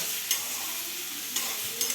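Steady frying sizzle in a pan with a few sharp scrapes of stirring, close and continuous, no talking.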